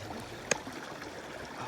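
A small mountain creek flows with a steady, soft rushing and trickling hiss, constant throughout with one brief click near the start.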